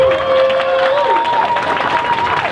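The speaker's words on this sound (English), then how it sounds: "Big applause for the Lyon-Martin staff." Brief crowd applause and cheering at a San Francisco rally to save a community clinic, loud and close, with a voice speaking over the clapping.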